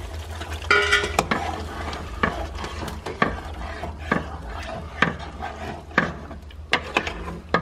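Chicken goes into oiled curry gravy in a pan, giving a continuous close sizzle and frying hiss broken by repeated scraping stir strokes of a utensil, with no voices.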